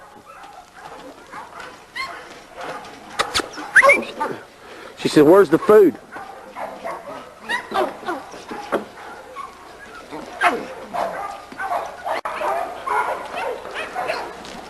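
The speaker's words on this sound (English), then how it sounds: "this is the little dog we call Sweet Pea" Sweet Pea, a small dog, gives sharp yips and barks mixed with whiny whimpers close by, scattered among people talking in a yard.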